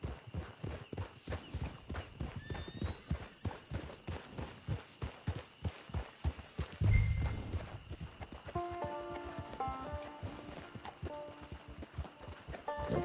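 Horse hooves clip-clop steadily in a video game, a rapid even rhythm running throughout at close range, with a brief louder thump midway and tonal game music chiming in near the end.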